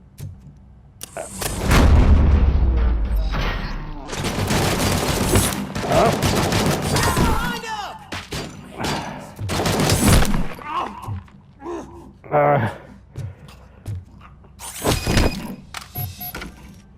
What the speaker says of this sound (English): Oh, that's gunfire.